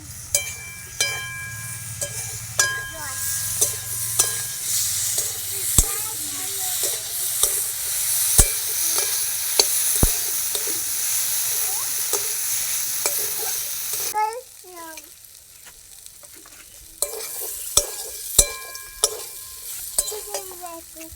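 Ground spice paste for a singara filling stir-fried in a pan, a constant loud sizzle broken by sharp clinks and scrapes of a utensil, the hiss dropping away briefly before returning, no one speaking.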